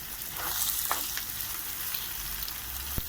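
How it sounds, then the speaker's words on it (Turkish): Spinach sautéing together with eggs in a pan gives a continuous close sizzle with a couple of brief clicks and one sharp knock near the end, with no talk. "Yumurtayla beraber kavuruyoruz"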